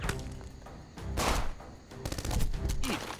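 Gunfire in the video game Jagged Alliance: Back In Action comes in several quick rattling bursts separated by short gaps, moderately loud with no talk over it.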